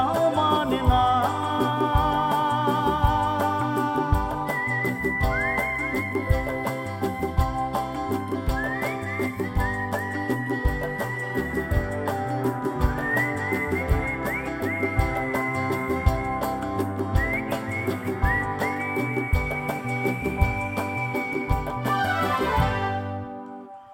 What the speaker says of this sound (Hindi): सीटी भी उतना ही अच्छा बजाता है